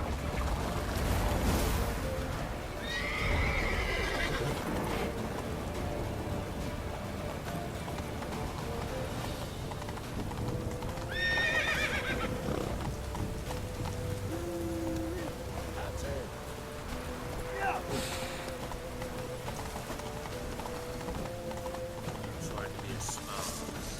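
Horse galloping in The Witcher 3: Wild Hunt, a steady run of hoofbeats going on through the scene under game music and shouted dialogue.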